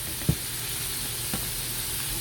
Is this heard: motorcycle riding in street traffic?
no